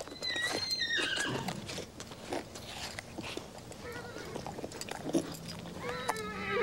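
A horse snorts and gives short whinnies, with shuffling and chewing noises nearby; the sounds come in brief bursts with quieter gaps between.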